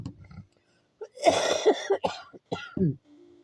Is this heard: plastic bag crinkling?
no